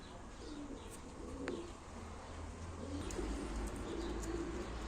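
Soft, steady cooing from a flock of Turkish play pigeons at a live auction, with occasional chirps and a brief flutter in the background.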